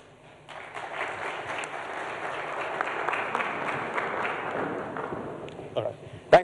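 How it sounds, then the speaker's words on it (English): Audience applause at a Ghana event on digital enterprise, moderate clapping from a seated crowd that builds after a quiet start, with some voices mixed in and a sharp thump at the close. "A round of applause"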